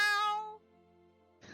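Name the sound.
cat meowing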